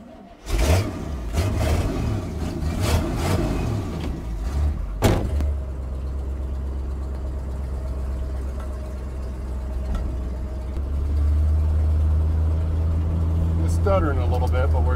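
A 1979 Chevrolet C20 truck engine runs on a test drive with the choke open, stuttering while cold: a loud low rumble with knocks and clunks early, then a steadier drone that grows slightly heavier near the end.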